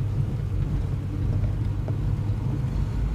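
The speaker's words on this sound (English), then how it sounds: "Let's unleash the mighty power of the Mazda 929." A Mazda 929 station wagon engine pulls away, a steady low rumble that holds evenly from start to finish, heard close inside the car with no talking.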